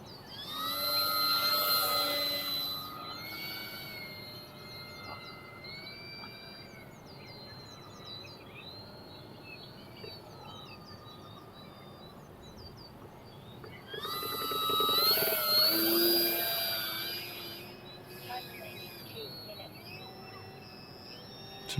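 Crested Ibis RC model plane flying at idle throttle, a faint, distant whirring motor whose pitch rises and falls, swelling briefly twice as it passes by.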